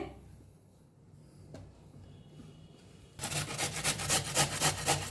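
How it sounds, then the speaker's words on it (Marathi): Large carrots grated by hand on a metal grater, a quiet start breaking into loud rhythmic rasping strokes at close range, evenly paced in the second half. "असं सगळं गाजर बघा असं किसून घेते"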